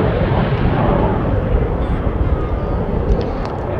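A Hawker Hunter, the British jet first flown in 1951, painted as a Swedish Air Force example, roars loudly and steadily nearby with a dense engine rumble and no voices.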